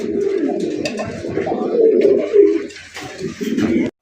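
Fancy pigeons at a breeder's farm coo steadily and close by, their low, throaty calls layering into a continuous rolling murmur for the whole stretch, with no talk over them.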